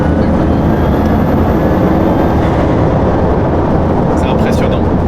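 Bugatti Chiron Super Sport with its 1600 hp W16 engine accelerating at about 3000 rpm, a loud, dense, continuous roar filling the cabin, with faint higher whines and clicks above it.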